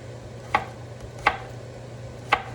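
A knife chops zucchini on a board for green lentil soup, striking three crisp, close, evenly spaced times over a faint background hum.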